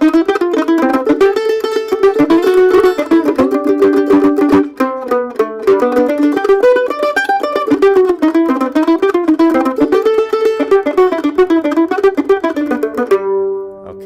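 Mandolin picking a staggered arpeggio that flows into a melody, a steady stream of bright, quick plucked notes played up close and alone, ending with a ringing final note.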